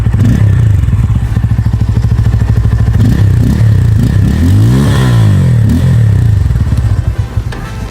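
Loud, close revving from a Bajaj Pulsar N250 motorcycle running without its stock muffler, the engine note rising and falling repeatedly with one sharp climb and drop near the middle before easing back to a rumbling idle.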